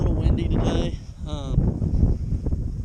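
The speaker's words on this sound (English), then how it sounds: "It's a little windy today." Wind buffets a microphone outdoors in gusty rumbling bursts, close and fairly loud, with a few faint higher tones drifting in the background.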